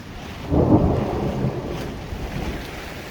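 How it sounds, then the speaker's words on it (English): Thunder rolls across the Rocky Mountains, a deep rumble swelling after half a second and slowly fading into a low, windy background; no one speaks. "90 degrees 1 minute, thunder and lightning the next."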